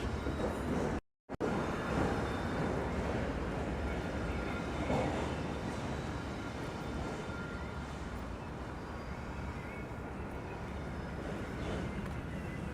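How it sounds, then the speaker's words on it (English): A train rolls past at a street crossing in San Diego on a summer evening, a steady close rumble of wheels and cars filling the whole stretch with only a brief dropout near the start. "we have no choice but to stay here, I guess, until this train passes"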